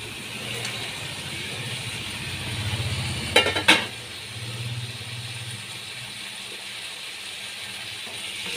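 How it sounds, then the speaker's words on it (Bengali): Cauliflower pieces dropped into a hot pan and stir-fried for a sweet cauliflower and potato curry, a low sizzle with a couple of sharp utensil scrapes and clatters midway, then steady frying. "এবার এর মধ্যে ফুলকপিগুলো দিয়ে দিচ্ছি"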